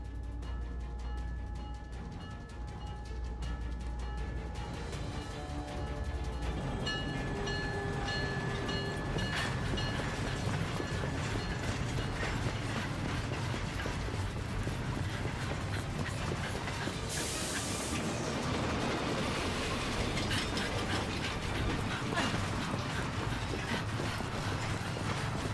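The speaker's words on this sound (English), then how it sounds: "The train for the airport is about to depart." In the video game Syberia: The World Before, a train pulls away from the station with a low rumbling engine and rhythmic clattering of wheels on rails, steady and moderately faint, with no talking.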